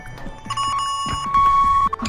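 In the video game Endless Office, a timer alarm goes off as a sustained electronic beeping tone over game sounds, loud and steady for about two seconds.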